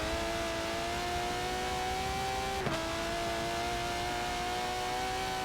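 Aston Martin DBR9 race car in a racing video game at Brands Hatch, its engine holding a steady high whine as it accelerates out of a corner, with a brief sharp blip midway through.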